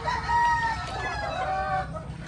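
Hens cluck and a rooster crows in a steady, fairly loud chorus of clucks and crows, heard right after the breeding hens were bathed and released onto the range, with no talking.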